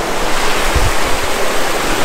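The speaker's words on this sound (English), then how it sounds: "Hot water out of a mountain." Hot spring water gushes out of a mountainside on an Idaho hiking trail, a loud, steady broadband rush of flowing water with no voices.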